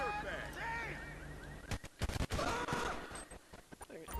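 Gunfire in the police-patrol game GTA V with the LSPDFR mod: a cluster of sharp, loud shots rings out in the middle of the scene over ambient game noise, followed by scattered smaller impacts.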